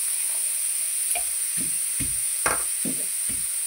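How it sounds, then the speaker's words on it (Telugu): Garlic and chili powder are pounded by hand in a steady series of dull, close thuds, about one every half second, over a constant background hiss, with no talking. "చక్కగా ఇలా మెత్తగా దంచేసుకొని"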